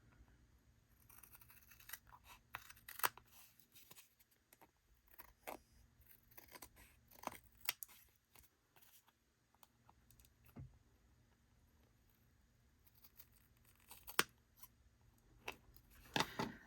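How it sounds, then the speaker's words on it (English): Scissors trimming the edge of a paper journal pocket from a crafting kit, a quiet, close series of irregular snips and paper rustles with no talk. "So we need to shave off an edge here. Hopefully I'm not actually cutting too much into my pocket."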